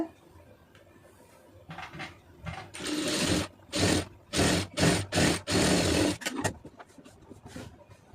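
A sewing machine stitches a puff sleeve in bursts, first a few faint starts, then several loud close whirring runs of about half a second each with short gaps between, before slowing to quiet handling.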